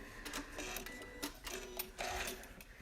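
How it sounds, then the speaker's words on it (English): A Janome sewing machine runs its automatic thread cutter, giving a short series of close mechanical clicks and whirs with brief motor buzzes in a quiet room. "I'm just going to go ahead and cut this thread."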